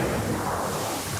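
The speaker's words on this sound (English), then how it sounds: "on the next page after it is this explosion" An explosion sound effect plays as a loud, continuous rumbling blast that holds steady for just over a second, with no voices over it.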